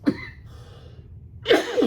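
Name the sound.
cough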